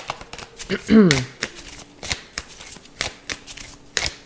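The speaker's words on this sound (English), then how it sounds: "So let's go ahead and shuffle some cards and see what we need to understand about this." Tarot cards from an In-Between Tarot deck being shuffled by hand, giving a run of quick riffling flicks and soft card slaps in an uneven rhythm, close up, with a voice speaking briefly over the shuffling.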